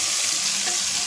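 Cabbage sambharo stirred with a spoon in a hot pan, a steady close sizzle with soft scraping strokes throughout, no voices.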